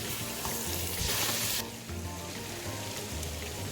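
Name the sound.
ginger and garlic paste frying in pan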